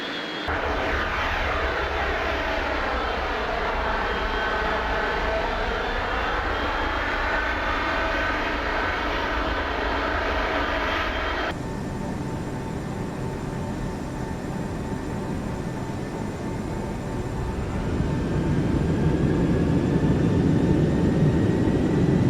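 Boeing 747 of TWA Flight 800 taking off in Flight Simulator X, a sustained jet engine roar with sweeping whine tones, a sudden shift in engine character midway as thrust builds, loud and continuous with no voices.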